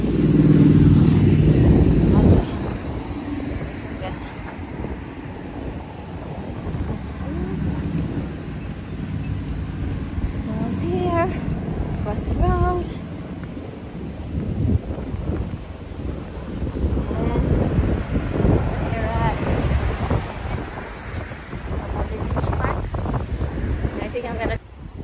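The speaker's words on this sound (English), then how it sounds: "All this wind." Strong wind buffets the microphone on a walk along a Maui beach, a continuous roaring rumble that swells and eases, with a voice speaking now and then.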